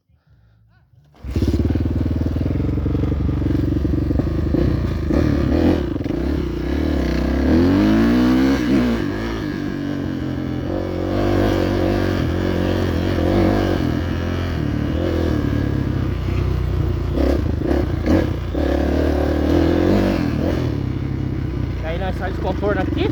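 A motorcycle sets off on a lap of a newly built motocross dirt track, its engine starting abruptly and then droning loudly and steadily with shifting revs throughout, while a voice occasionally sounds over it.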